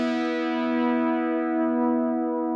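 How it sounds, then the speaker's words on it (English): Sustained guitar synth note through a Boss GM-800 trem chorus effect, a rich harmonic tone with gentle pulsing motion, heard alone. "this trem chorus I like."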